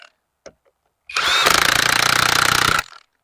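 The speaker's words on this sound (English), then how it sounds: "tightening up the last of my bolts on the ledger board" Power tool tightening the last bolts on a deck ledger board fixed to a wall, one loud close burst of steady whirring lasting under two seconds, with a few faint knocks before it.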